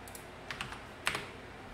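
A few quiet computer keyboard keystrokes as a command is typed into a Windows Subsystem for Linux terminal, sparse clicks in two short bursts with no talking.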